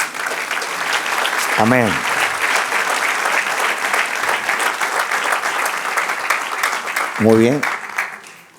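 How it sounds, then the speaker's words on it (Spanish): A church congregation gives steady, full applause during a sermon, with a preacher's voice speaking briefly over it near the start and again near the end. "si quieren aplaudir"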